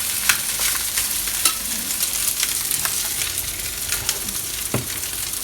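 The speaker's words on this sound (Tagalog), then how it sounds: "isusunod naman ni Daddy yung kanin sasangag" Rice stir-fried in a hot pan for sinangag, Filipino garlic fried rice, gives a steady bright sizzle with scattered scraping clicks of a spatula, close and continuous with no talk.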